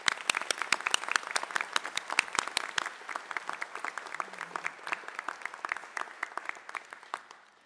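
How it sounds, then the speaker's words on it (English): Audience applause at a pharmacy school white coat ceremony, a steady patter of many hands clapping that rises quickly then gradually thins toward the end, moderately distant in a large hall. "I'd like to ask you to join me in a round of applause for all those people who are here supporting"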